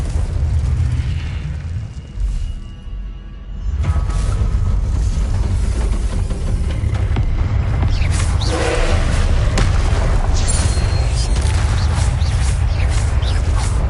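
Confringo fire spell in Hogwarts Legacy: a run of heavy, booming blasts with low rumbling bursts and crackling debris, loud and close, one brief lull partway through before the thunderous explosions resume.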